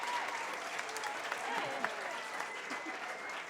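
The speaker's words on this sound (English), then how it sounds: "another big round of applause to our Oinkari musicians" An audience at a Basque Oinkari event applauds the musicians, with soft, continuous clapping from a modest crowd and faint murmuring beneath it.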